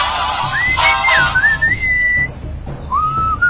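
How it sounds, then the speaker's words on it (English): A melodic whistle in the video game Sam & Max Beyond Time & Space rises and falls in smooth, warbling phrases, loud and close over a low musical background, with a short pause before a final phrase. "What is that enchanting whistling sound?"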